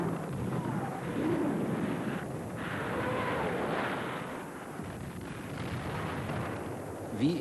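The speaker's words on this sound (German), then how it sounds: "Die Wehrmacht setzt mit Dora das größte Geschütz der Welt ein." The German 80 cm Dora heavy railway gun fires during the Second World War, a deep booming blast that rolls into a long, sustained rumble with lingering low reverberation throughout.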